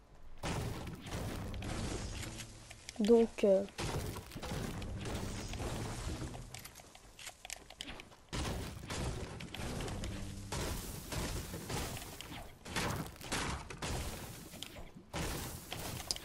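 Small fireworks bursts from a weapon in the video game Fortnite, played in a Battle Royale match, crackle and pop in irregular clusters of sharp, bright bangs, mixed with other game effects and a brief spoken word.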